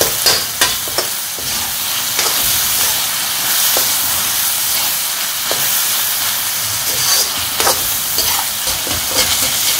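Keema being stirred in a kadai: a loud, steady sizzle and steamy hiss with repeated scraping strokes of the spoon against the pan, close up and without speech.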